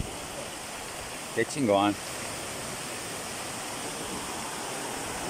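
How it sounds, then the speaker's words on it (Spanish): Steady, loud rush of a waterfall at Vado Hondo in Cosalá, Sinaloa, Mexico, filling the whole stretch, with someone briefly speaking over it. "Miren, una cascada ahí."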